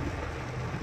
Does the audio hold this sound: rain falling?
yes